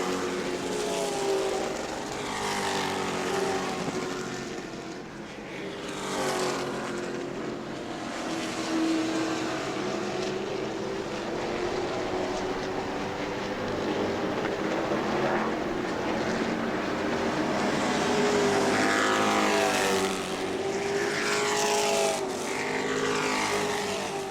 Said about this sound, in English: We got a couple of fast trucks trying to pass each other.